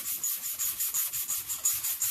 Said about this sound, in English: when you're sanding, do a little crisscross